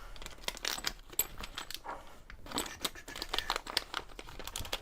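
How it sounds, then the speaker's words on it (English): Plastic bags crinkling and items being packed into them, with steady rustling and crunching bursts throughout, close by, no talking. "There's lots of crinkling and putting things in bags"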